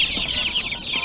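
Light Brahma and White Laced Red Cornish meat chickens clucking steadily at close range, a continuous overlapping chorus of soft clucks with no talking.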